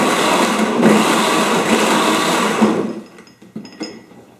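A blender pulses a banana smoothie in loud, dense bursts that run steadily for about three seconds, then cut off abruptly into a few short, fainter clicks and knocks.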